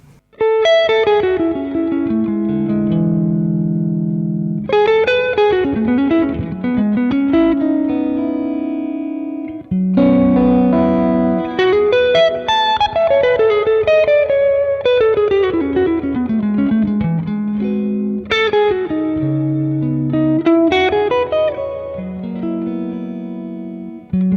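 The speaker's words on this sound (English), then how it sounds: "Let's add a bit more reverb." Clean electric guitar plays through a REVV D20 amp with reverb added, flowing arpeggiated phrases and sustained chords in several loud, close passages with short pauses between them.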